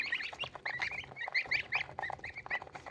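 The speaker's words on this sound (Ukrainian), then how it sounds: "хочу показати, які гусята вилупилися вже в мене" Freshly hatched goslings from a home incubator peep in rapid, overlapping high-pitched chirps, a busy cluster of small calls close by with brief pauses between bursts.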